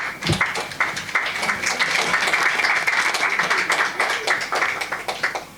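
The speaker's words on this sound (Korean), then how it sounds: "상당히 기분 나쁘게 박수를 치시는데" A church congregation claps at an award ceremony, a brisk, uneven burst of many hands close by that keeps going to the end, with a voice mixed in among the clapping.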